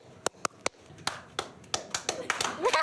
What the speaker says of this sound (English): Can you guys do like a teacher clap